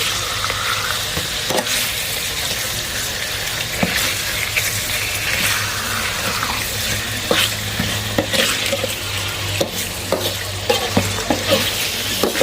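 Large snakehead fish frying over low heat, a steady dense sizzle and crackle of oil running throughout, close and loud, with scattered clinks and scrapes of a utensil against the pan and no talking.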